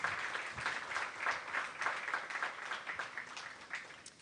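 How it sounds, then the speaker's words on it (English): Audience applause at a junior fair king and queen coronation, a steady patter of clapping hands lasting several seconds, moderately distant and without speech. "Let's give her a round of applause."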